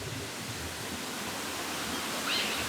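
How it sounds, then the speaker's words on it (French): Waterfall cascades on Phu Quoc island in Vietnam, a steady broadband roar of falling water filling the whole scene at close range, continuous and unbroken, with no voices. "On est aux cascades."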